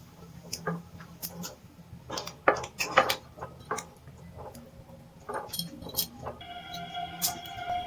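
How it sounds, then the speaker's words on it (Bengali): Fruit plum cake batter being mixed in a bowl for a Christmas cake. A spoon scrapes and taps against the bowl in irregular, close-up strokes, and a few sharper clinks stand out over quiet background hum. "ভালো করে মিশিয়ে নিচ্ছি।"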